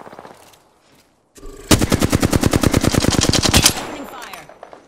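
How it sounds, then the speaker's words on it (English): Rapid automatic gunfire in the Apex Legends battle royale game, a loud sustained burst of evenly spaced shots lasting about two seconds after a brief quiet gap, with faint game ambience before it. "I'm taking fire."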